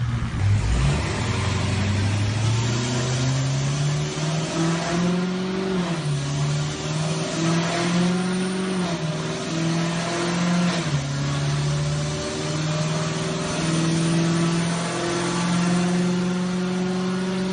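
Audi R8 engine revving on a dyno, heard through played-back playback: sustained loud engine tone rising and falling in pitch through several rev sweeps and gear-like steps, steady and continuous with no talk.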